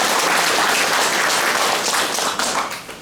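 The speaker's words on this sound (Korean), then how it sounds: "예, 큰 박수 한번 부탁드립니다." A crowd claps loudly and continuously at a Korean rural leaders' support rally, a dense sustained wash of applause that tapers slightly toward the end.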